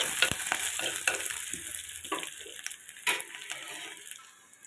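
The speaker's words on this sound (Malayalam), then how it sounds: "ഒന്ന് ഇളക്കി നമുക്കിതെല്ലാം കൂടെ ഒന്ന് നന്നായിട്ട് കൂട്ടി യോജിപ്പിക്കാം" A curry leaf mixture stirred in a frying pan, repeated scraping strokes over a soft, continuous sizzle, close and moderately loud, with no talking.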